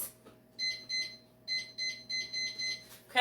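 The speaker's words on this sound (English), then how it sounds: "So I'm going to put a timer on for that for 50 minutes." Kitchen timer being set for 50 minutes while baking almond biscotti, giving a series of short, bright electronic beeps in quick bursts, close and fairly loud, with no talking.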